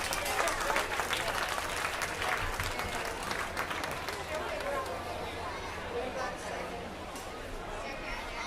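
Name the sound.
round of applause for youth swine showing kids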